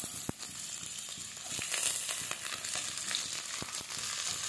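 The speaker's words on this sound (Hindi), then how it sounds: "सारे सारे वेजिटेबल्स को भी ऐड करके हम इसे शैलो फ्राई कर लेते हैं।" Mixed vegetables with small chilies shallow-frying in a pan for veg chowmein, a continuous moderate sizzle with occasional sharp clicks of a utensil against the pan.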